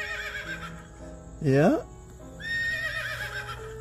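A child imitates a horse neigh with a single high, wavering whinny in the middle, surrounded by adults talking nearby.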